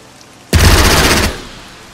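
A burst of machine gun strafing from Strategic Mind: Fight for Freedom, set in the Burma campaign: a loud, dense rattle of rapid fire lasting under a second, then cutting off into a quieter tail.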